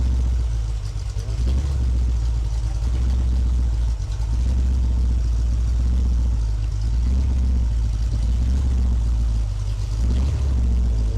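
A freshly rebuilt Ford 302 V8 running its first break-in, a loud, steady low rumble that stays near and even throughout with no one talking.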